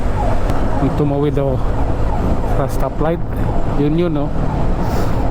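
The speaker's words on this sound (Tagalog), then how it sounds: "Yan yung ambulansya nakabuntot sa akin" A wailing ambulance siren rises and falls repeatedly amid city traffic noise in Metro Manila, following close behind a motorcycle, while someone talks over it.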